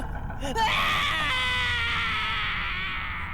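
A drawn-out human scream used as a horror sound effect in a story about a party in a forest, starting with a rising wail and then holding a shrill, steady tone for several seconds.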